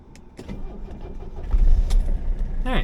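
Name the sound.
car engine starting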